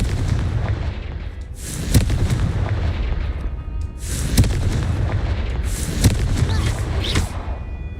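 Confringo fire spell blasts in the Hogwarts Legacy video game, several booming bursts over a constant roaring battle din, with louder crackling impacts spaced a couple of seconds apart.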